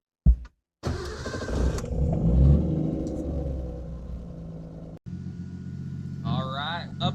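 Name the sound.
car engine cranking over with high flow fuel pump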